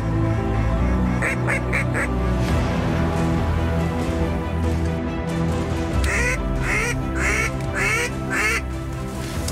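Wild ducks quack loudly and repeatedly at close range during an evening duck hunt on a marsh, bursts of calls overlapping a dense, steady background of birds with no talking.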